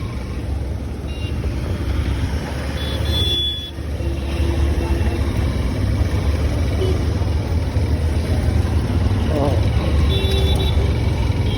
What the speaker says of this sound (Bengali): প্রতিদিন কি ধরনের জ্যাম ফেস করে রাস্তা থেকে বের হতে হয়, আর প্রতিদিন এ ধরনের জ্যাম